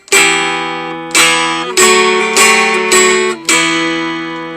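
Mountain dulcimer playing a holiday tune as written, full strummed chords with a melody on top, six or so ringing attacks that sustain and fade, close and loud with no voices.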